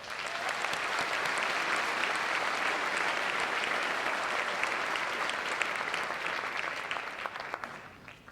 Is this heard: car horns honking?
no